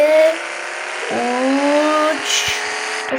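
A Daewoo Damas minivan accelerates hard from a standstill toward 100 km/h, its small engine whining upward in rising pitch, with quick gear changes that briefly drop the tone before it climbs again.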